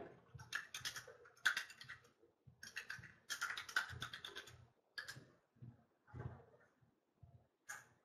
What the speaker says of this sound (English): I'll type in my info here.